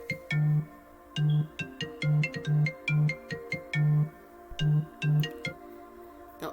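A mobile phone ringtone plays a repeating melodic pattern of short, clear tones in bursts, fairly loud and close with no talking over it.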